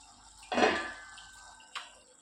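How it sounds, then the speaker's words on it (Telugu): Water from a tea glass is poured into a brinjal and tomato curry in a kitchen pan, giving one short, close splash that fades over about a second, followed by a faint clink. "ఒక టీ గ్లాస్ అంత వాటర్ని యాడ్ చేసుకుంటున్నానండి"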